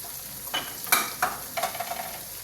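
Whole cumin seeds crackle in hot oil for a chickpea degi pulao, a brief run of close, sharp spitting pops over a faint steady hiss.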